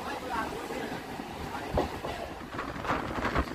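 Riding aboard a Sealdah–Budge Budge local train, a low, fairly quiet rumble of wheels on track is broken by a few rhythmic rail clacks, with faint voices in the coach.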